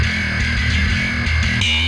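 Distorted bass synth tone layered for an EDM track, a dense, buzzing sustained low note that holds loud and steady for about two seconds before cutting off abruptly.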